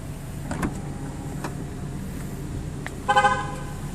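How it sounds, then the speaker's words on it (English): A short car horn toot from a 2014 Cadillac SRX near the end, signaling that it is running, preceded by faint mechanical clicks from the parked vehicle. "it just honked at me to let me know that it is running"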